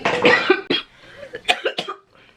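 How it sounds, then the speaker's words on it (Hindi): Several harsh coughs come in quick succession, close and fairly loud, then trail off into quieter breathy sounds. "हाय हाय इतनी खांसी"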